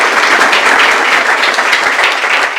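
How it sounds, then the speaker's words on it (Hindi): A live audience claps loudly and steadily for a young man being congratulated, a dense, close round of applause with no talking over it. "तालियां बजाओ भी लड़के के लिए"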